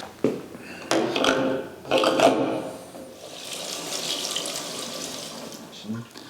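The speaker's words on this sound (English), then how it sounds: "And now I can fill up my gas tank." Fuel pours into the gas tank of a 1929 Peugeot 190S in a steady liquid splash, with louder bursts early on and then a continuous hissing flow, close by.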